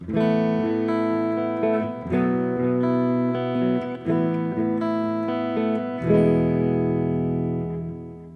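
A clean electric guitar tone from a Fractal amp modeler, set up for series running, plays a sequence of ringing chords and notes, clear and undistorted, with sustained tones blending into each other.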